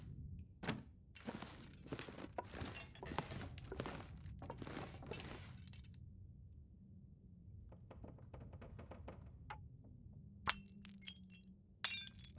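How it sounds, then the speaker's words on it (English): Glass dishes breaking in The Long Dark video game: a quick run of sharp crashes and shattering clinks in the first half, then scattered smaller tinkles and a couple of bright glassy hits near the end. "I love that glass breaking sound."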